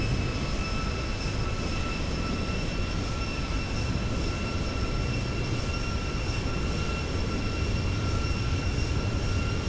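Airliner thrust reversers roar after touchdown in the X-Plane flight simulator, a loud, steady broadband rush of engine noise with constant whining tones and no pauses.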